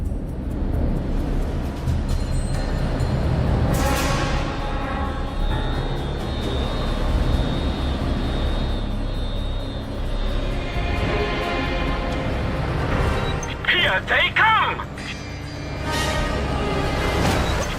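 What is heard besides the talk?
helicopter approaching in video game Just Cause 2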